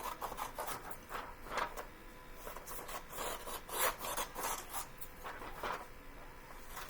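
Scissors or a blade trim a paper notebook page, producing a quick series of soft rasping cuts and rustles, close and fairly quiet, with no talking.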